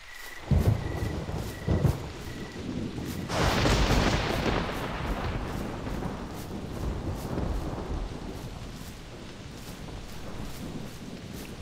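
Thunderstorm in the hunting game The Hunter Primal: a heavy rumbling roll of thunder swells after a few seconds and keeps grumbling under steady rain-like noise, fairly loud and with no voices.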